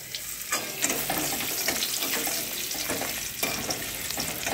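Crushed cinnamon, clove and cardamom hit hot oil in a Bengali vegetarian dish, making a continuous close crackling sizzle with small spitting bursts throughout.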